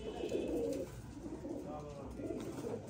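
Rooftop-kept pigeons coo in soft, low, rolling phrases that repeat close by, with voices talking over them.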